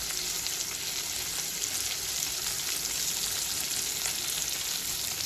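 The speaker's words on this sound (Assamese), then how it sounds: "এইখিনি মই এতিয়া গোল্ডেন ব্ৰাউন হোৱালৈকে ভাজিম" Onions frying in a pan with ginger and garlic paste, a dense, continuous sizzle heard up close, steady and unbroken, with no talking.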